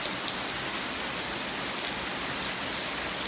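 Heavy rain from a severe nighttime thunderstorm pours down in a dense, unbroken hiss, loud and steady throughout with no voices.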